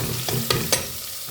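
Tomatoes sauté in a pan for a village-style paarai fish curry, a soft sizzle under a few quick scraping stirs of a spoon, heard close and fairly quiet.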